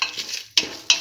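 A spoon stirring a spiced tomato and split pigeon pea stew mixture with turmeric, red chillies and salt in a pan, quick scraping strokes with faint sizzling and two sharp scrapes near the end.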